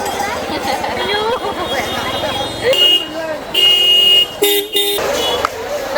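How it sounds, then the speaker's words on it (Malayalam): A car horn honks at a cow lying in a Pushkar street in Rajasthan, sounding as several short and longer toots over street noise, with people talking close by. "കാറ് വന്ന് ഹോൺ അടിക്കുകയാണേ"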